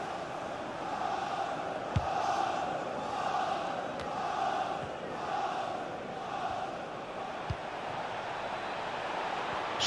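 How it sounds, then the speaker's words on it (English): A FIFA 19 stadium crowd roars in a steady, distant-sounding wash of cheering that swells gently, with a few faint thumps over it and no clear talk. "Whoa, the crowd were up on their feet there."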